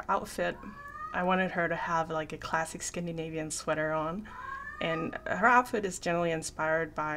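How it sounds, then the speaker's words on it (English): A cat meows several times indoors, its rising cries overlapping someone speaking steadily nearby. "excuse my cat"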